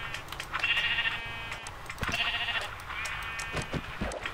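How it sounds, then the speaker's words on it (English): Minecraft sheep bleating during lucky block gameplay, three wavering, nasal baa calls in a row, each lasting about half a second, fairly close and clear over a low game background hum, with no talking. "And it gives me a sheep."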